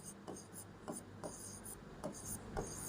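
Chalk or marker scratches in short, rhythmic strokes as a teacher writes on a board during a class 12 physics lesson. The taps and rubs are quiet and steady, and the room sounds faintly behind them.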